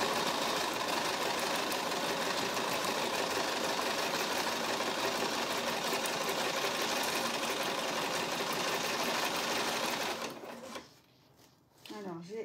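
A sewing machine hums in a fast, steady run while stitching a coated jute canvas tote bag, loud and close for about ten seconds before stopping abruptly, followed by quiet handling noises.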